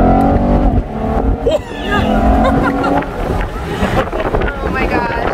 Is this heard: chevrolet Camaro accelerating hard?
yes